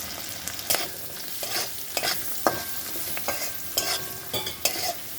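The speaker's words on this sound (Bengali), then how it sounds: "এখন দিয়ে দেবো 1 টেবিল স্পুন হলুদ দিয়ে একটু নেড়ে দেবো।" Turmeric is stirred into fried olives in a pan: repeated scraping strokes of a spoon over a soft, continuous sizzle, close and clear, with no voices.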